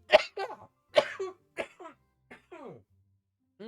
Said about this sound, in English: sorry, sudden cough attack.